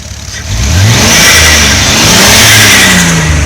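A Toyota Supra with a 2JZ engine revs loudly and steadily for several seconds, a rough, sustained roar from a misfiring, sluggish motor with no voices over it.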